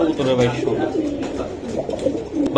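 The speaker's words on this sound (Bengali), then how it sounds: "কি অবস্থা কবুতরগুলা সেরকম কোয়ালিটির কবুতর" High-flying Girbaz pigeons coo softly at close range at a market in Lalbagh, Old Dhaka, their murmuring calls mixed with steady background chatter from people nearby.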